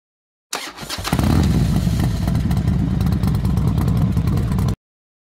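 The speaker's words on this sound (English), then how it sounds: "The 2026 Kodiak 700 EPS is powered by Yamaha's potent, big-bore 686 cubic centimeters SOHC 4-stroke engine." A 2026 Yamaha Kodiak 700 EPS ATV with a 686 cc single-cylinder SOHC four-stroke engine starts up and settles into a steady, close, loud idle with a throbbing low-end beat that runs unbroken to the end.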